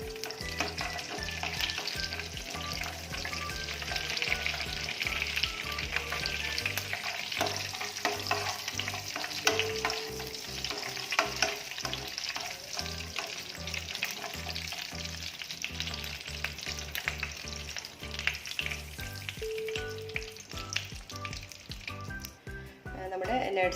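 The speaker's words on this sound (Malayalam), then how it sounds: "ഓയിൽ നന്നായിട്ട് ചൂടായിട്ട് വരുമ്പോൾ നമുക്ക് കുറച്ച് കാഷ്യൂനട്ട് ഒന്ന് ഫ്രൈ ചെയ്തെടുക്കണം" Cashew nuts fry in hot oil, a continuous near sizzle and bubbling crackle with stirring scrapes running throughout, with no one speaking over it.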